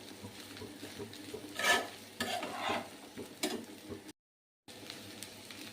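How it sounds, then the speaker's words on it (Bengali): Flattened rice (chira) is stir-fried in a pan, giving close, uneven scraping and stirring bursts over a low frying hiss, with a brief silent gap near the end. "ওলট পালট করে এটাকে আমি ওর সঙ্গে ফ্রাই করে নেব"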